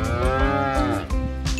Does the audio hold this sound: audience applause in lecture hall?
no